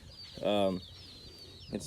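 A chicken lets out a short, clucking call close by, then goes quiet, with faint bird chirps and a second brief cluck at the end.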